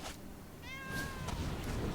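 A house cat gives a single drawn-out meow with clear rising and falling harmonics, close and fairly loud, over a low background hum from a room where a card game is being played.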